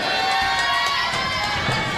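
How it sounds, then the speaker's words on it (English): At a grand final, a crowd cheers for the Vic All-Stars, a loud, sustained roar of shouting voices with no break. "here is the crowd getting right behind the Vic All-Stars"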